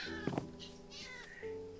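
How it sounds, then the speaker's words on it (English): A tamed cat in a video game meows after being shot by accident, giving two short, loud cries and then a softer, drawn-out mew, with no talking over it. "I didn't mean to shoot my cat either."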